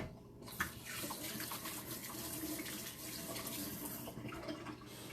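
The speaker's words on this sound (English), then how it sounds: "gonna wash my hands" Water from a kitchen sink tap runs steadily while hands are washed, a continuous close, moderately loud hiss and splash that dips briefly near the end.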